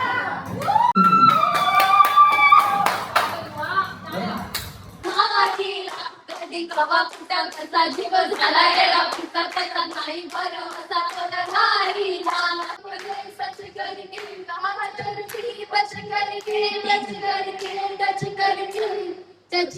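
An audience claps together at a team's second annual outing, the applause mixed with music and a singing voice and carrying on steadily for most of the stretch.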